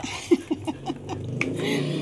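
Dogs in a Filipino household with several dogs, including aspin and shih tzu, give a few short, close huffs and yips with quiet room noise, then a low rumbling, growl-like tone underneath.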